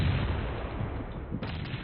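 Gunfire in the battle-royale video game PUBG, dense booming shots rolling together in a sustained low rumble, loud and close, with no voices heard.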